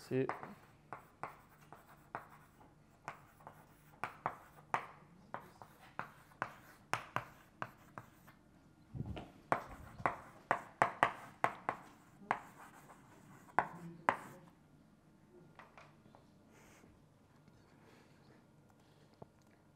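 Pen on paper during handwriting: a series of quiet, irregular scratching strokes and taps spread across the whole stretch, faint and close, with low background noise.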